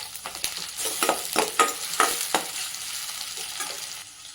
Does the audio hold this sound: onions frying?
yes